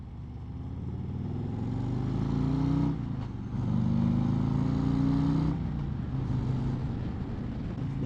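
A 2024 Harley-Davidson Street Glide motorcycle ridden in sport mode, its engine rumbling loud and steady under wind noise with a brief dip in power before pulling hard again.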